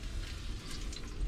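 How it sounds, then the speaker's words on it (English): Venison sizzles in a hot dish, a soft, steady crackling fry with faint irregular pops, close but quiet and uninterrupted by talk. "I can hear it sizzling in there."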